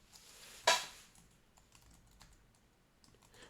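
A few scattered clicks on a computer keyboard as a game title is typed. One louder tap stands out near the start, followed by light, sparse keystrokes in a quiet room.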